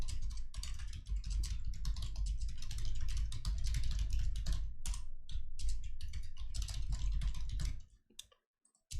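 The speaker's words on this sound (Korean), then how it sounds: "제가 평소에 이렇게 타이핑을 많이 하면서 분석을 하진 않잖아요" Rapid, steady typing on a computer keyboard fills most of the stretch, dense clattering keystrokes close up with no voices, stopping abruptly near the end before a couple of final taps.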